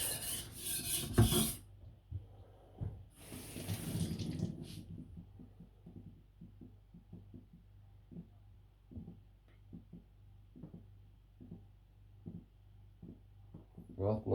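A Patrik Carlvik chopper blade is sharpened by hand, giving a series of quiet, short rasping strokes in a steady rhythm after a couple of louder scraping bursts, close and faint.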